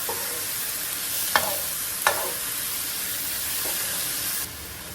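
Drained, brined ingredients sauté in a hot pan with a continuous hiss and sizzle, broken by two or three sharp scrapes of a utensil stirring them. No one speaks.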